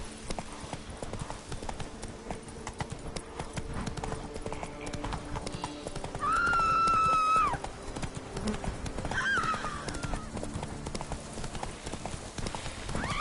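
In the Witcher 3 video game, the horse Roach gallops with steady, rapid hoofbeats and gives two brief whinnies, at moderate volume.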